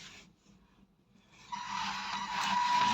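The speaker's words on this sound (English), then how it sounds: "the vacuum cleaning fan has turned on" An indoor line-following disinfection robot's vacuum cleaning fan switches on after a brief lull and rises into a loud, steady whirring hiss with a faint tonal whine that holds to the end.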